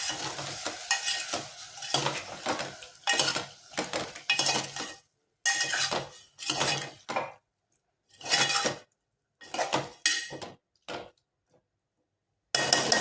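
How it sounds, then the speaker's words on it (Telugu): Tomato pieces stirred in a cooking pot for a fish, brinjal and tomato stew, giving close scraping and clinking bursts of spoon against metal in separated strokes with quiet pauses between. "ఈ టమాటా ముక్కలు కూడా మెల్లగా ఇట్లా ఒకసారి కలుపుకోవాలి"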